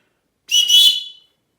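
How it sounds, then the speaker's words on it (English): One short, piercing blast from a shrill Coghlan's survival whistle, loud and close, lasting under a second before cutting off into silence. "Let's take it out here and give it a blow."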